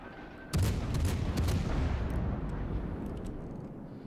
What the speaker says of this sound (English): And we'll fire a few more salvos off at him